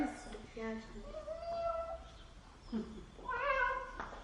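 Children voice imitations of a cat, giving several short, rising and falling meows one after another, close and fairly quiet, with brief pauses between them.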